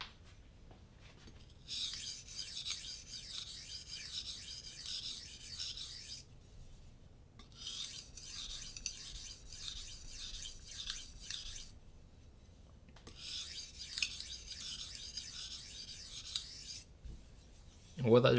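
Knife blade drawn across an Arkansas sharpening stone in three separate bursts of steady, rasping strokes, close and clear, with brief quiet pauses between sets.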